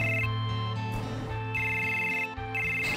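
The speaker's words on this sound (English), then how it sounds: "I'm getting a phone call in here?" Final Fantasy 7 phone ringtone, a bright electronic melody cycling through repeated rings layered over game music, steady and prominent with no voices.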